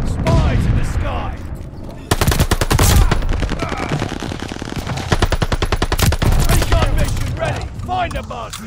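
Heavy automatic gunfire in Call of Duty Vanguard multiplayer, long loud bursts of rapid shots starting after a short lull, with game voice callouts faintly underneath.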